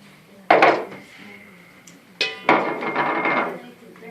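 Garlic and seasoning being mixed into melted butter in a bowl, heard as two bursts of utensil clatter and scraping against the dish, fairly close, with quiet gaps between.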